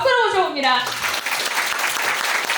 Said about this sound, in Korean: 저희 염승환 이사님 박수로 모셔봅니다